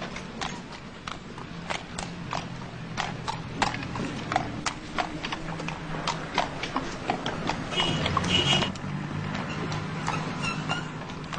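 Hooves of a horse-drawn cart clip-clopping on a Dublin street, a steady walking rhythm of sharp, close knocks over traffic rumble, with a brief louder passage near the end.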